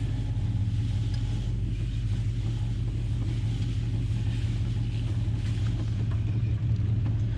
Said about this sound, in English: It takes a while to heat this engine up.